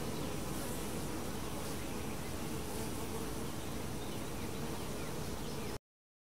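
A honeybee colony buzzes around a banana set on the hive, a continuous dense hum of many bees close by, steady and fairly faint, with no talking.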